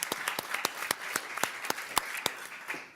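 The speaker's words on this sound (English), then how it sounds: "Please give them another round of applause." Scattered, distinct hand claps from a small audience at a UN-Water seminar on the water-energy nexus, sharp and fairly faint, arriving in an uneven rhythm over a quiet room.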